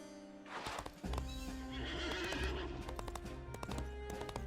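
A horse in the Disney Infinity video game gives a loud, drawn-out neigh while its hooves clip-clop steadily underneath, close and clear with no talking.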